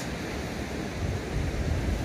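Rough ocean waves surge at Inasa beach in a broad, continuous roar, loud and close, swelling slightly toward the end with no voices over it.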